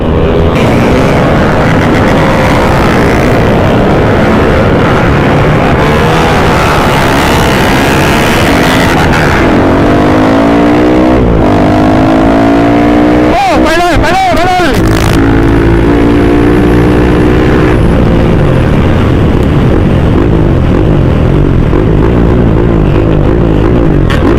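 A Yamaha Exciter motorcycle races a bike fitted with a KTM 690 engine on a Surat Thani track, giving loud, continuous engine roar that rises and falls in pitch through gear changes, with one sharp revving swell midway.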